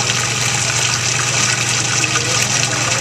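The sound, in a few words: pouring runny liquid into measuring cup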